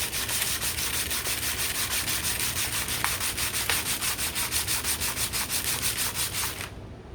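A wooden harmonica slider being sanded by hand with fairly rough sandpaper, a steady, loud rhythmic rasp of quick back-and-forth strokes that runs continuously and then stops abruptly.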